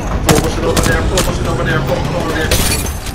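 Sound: gunshot from video game Apex Legends

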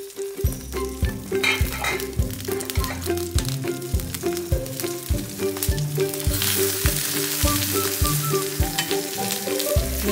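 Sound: chicken wrapped in banana leaf frying in hot oil

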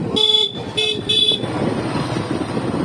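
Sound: motor ride along a flood embankment

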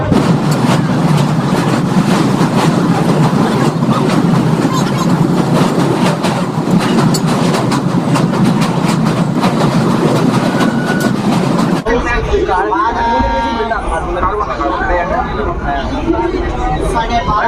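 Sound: local train running from Sealdah towards Bandel

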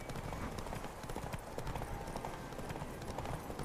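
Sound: horse hooves in a video game

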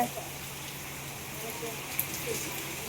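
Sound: heavy rain falling

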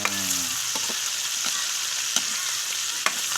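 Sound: sautéing pork and chicken for mung bean stew

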